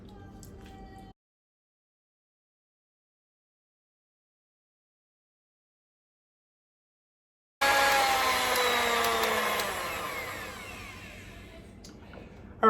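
A blender whirs loudly while mixing chocolate chip pecan cookie ingredients, starting abruptly after a silent stretch and slowly easing off, with a short burst of noise before.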